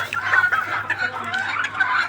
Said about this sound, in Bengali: এটা হচ্ছে পৃথিবীর সবচেয়ে ছোট্ট মুরগি